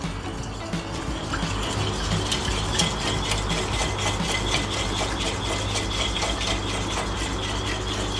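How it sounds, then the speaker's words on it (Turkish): A whisk beats eggs and milk for pancake batter in a bowl, a steady rapid swishing and clinking held close and continuous throughout. "Sütü ekliyorum ve çırpıyorum."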